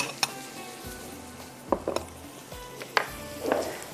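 Small spice bowls are set down on a kitchen counter in a few sharp clinks and clatters, spaced apart, close and fairly quiet with faint background noise.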